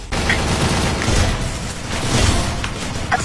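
Gunfire in the Free Fire mobile game, with dense continuous bursts of shots and booms forming a loud, noisy barrage throughout.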